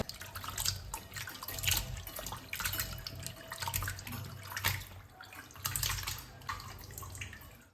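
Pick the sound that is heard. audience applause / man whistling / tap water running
tap water running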